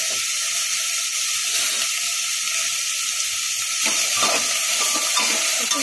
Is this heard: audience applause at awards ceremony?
no